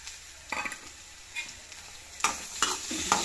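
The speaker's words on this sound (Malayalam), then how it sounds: "ശേഷം നമുക്ക് അരിഞ്ഞ് ചെറുതായിട്ട് അരിഞ്ഞ് വെച്ചിരിക്കുന്ന ഒരു സബോളയാണ് അത് ഇട്ട് കൊടുക്കാം" Chopped onion fries with green chillies in coconut oil, a soft hiss punctuated by several short scraping stirs that grow louder toward the end.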